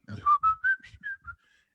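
A person whistles a short melodic phrase of about six clear, separate notes, close and fairly loud, with no other sound.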